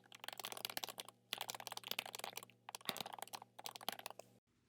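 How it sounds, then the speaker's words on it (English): Rapid clicking of keys on a computer keyboard in quick bursts separated by short pauses, close and fairly quiet, with no voice. "So I'm going to type some text here that I want."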